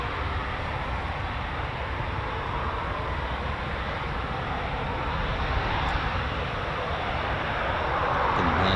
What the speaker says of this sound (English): Can hear more Typhoons starting up